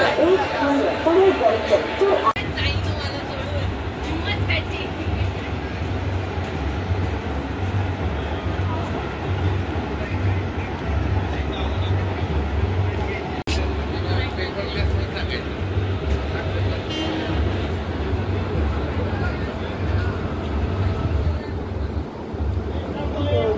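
A Mumbai local train arriving at a station rumbles steadily with a low, rhythmic clatter of wheels, while people chat and station noise carries in the background.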